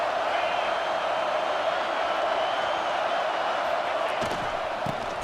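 A football stadium crowd roars steadily through overtime of an Iowa versus Indiana game, a dense, loud, continuous wash of cheering with a few sharp claps or thuds near the end.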